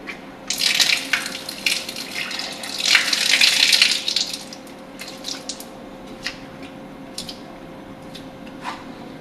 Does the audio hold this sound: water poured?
yes